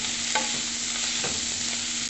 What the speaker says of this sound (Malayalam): ഈ മല്ലിയിലയും പുതിനയിലയും കൂടി നന്നായിട്ട് ഒന്ന് വഴറ്റിയെടുക്കണം.